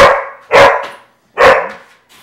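A Labradoodle barks twice, loud and close, each bark followed by a short whiny tail, with a brief pause between them.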